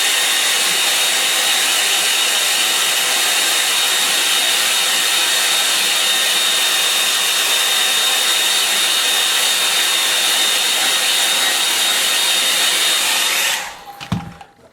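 A hair dryer blows steadily at close range to dry a watercolour painting of a Thames barge, a loud continuous whir that holds for about thirteen seconds before cutting off abruptly.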